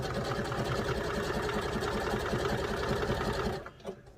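A sewing machine stitches a pair of trousers continuously with a fast, steady mechanical whirr, then stops near the end, leaving a few faint clicks.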